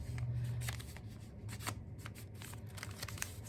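Paper is creased and folded by hand for origami cubes, making crisp close rustles and crinkles in quick bursts, and no one speaks.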